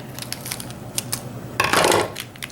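Scissors cut open a plastic Popin Cookin hamburger kit packet, with a few small clicks and taps followed by a short, crisp crinkling snip, close up and with no talking.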